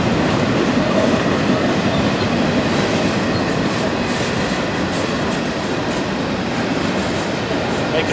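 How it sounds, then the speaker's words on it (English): A Norfolk Southern freight train passes the 9th Street railroad crossing in Lafayette, Indiana, with a loud, continuous rumble and rhythmic clatter of railcars and wheels, close by and steady throughout. "Of course, it's the longest train ever."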